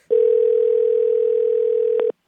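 Telephone dial tone heard while placing a call: a single loud, steady pure tone lasting about two seconds, with small clicks near the end before it cuts off abruptly.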